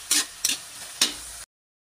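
Ground pork fries in a pan with a soft steady sizzle, broken by three quick scraping stirs, close up, before it cuts off abruptly.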